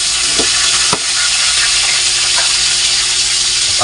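Bangus (milkfish) fries in hot oil with a loud, steady sizzle, a few distinct pops cracking out near the start.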